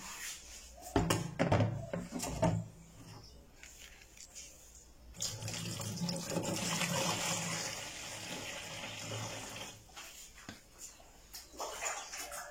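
Water is poured into a basin, a sustained splashing, rushing flow running for several seconds, preceded and followed by scattered knocks and handling noises, fairly faint with no talk.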